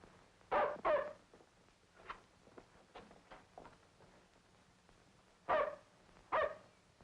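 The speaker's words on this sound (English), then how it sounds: "But you can't let him bark." Dog barks in two close pairs, near and fairly loud, with a few softer yips and whines in between, set in a tense nighttime scene from a 1953 crime drama.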